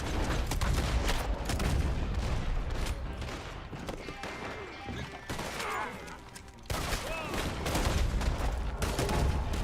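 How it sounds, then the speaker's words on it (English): Gunshots in Red Dead Online, rapid bursts of firing and mechanical weapon clatter mixed with game noise, loud and nearly continuous over ten seconds, with a voice talking now and then. "Where am I even shooting?"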